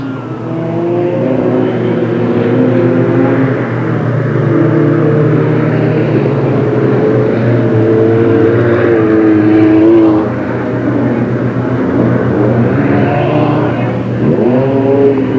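Race cars roar around a speedway oval track in a steady loud drone of several engines, pitch shifting as they come off the corners, with distant overlapping engine tones throughout.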